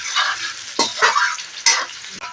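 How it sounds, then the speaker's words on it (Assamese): Chopped onions sizzling in hot oil with two bay leaves in a pan, a steady loud fry hiss broken by a few scraping stirs of a spoon. "এতিয়া পিয়াজখিনি মই ৰঙা হোৱালৈকে ভাজি লম"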